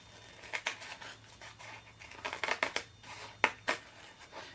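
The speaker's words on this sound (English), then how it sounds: "So that's where the scissors come in." Sharp scissors snipping through a paper napkin to trim it to the size of a greeting card, a quiet, close series of crisp irregular cuts arriving in small bursts with short pauses between.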